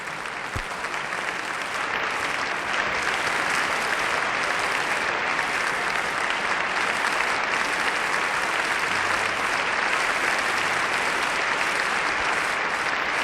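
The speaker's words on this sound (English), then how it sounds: "Mr. de Lancie is acknowledging not only the applause of our audience here in the Academy of Music" Sustained applause from a concert audience at the Academy of Music in Philadelphia, a dense, steady roar of clapping that fills the hall evenly from start to finish.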